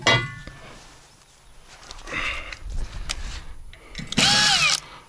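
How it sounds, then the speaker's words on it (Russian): A cordless screwdriver fastens a plate onto a fish smoker. Short bursts of a whirring motor come between metallic clinks and handling knocks, close and moderately loud, with no voices. "Шуруповерт, кстати, в помощь."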